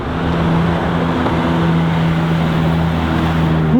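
An old winter beater car drifting through snow, its engine droning steadily and loudly with a low, even hum throughout, no voices over it.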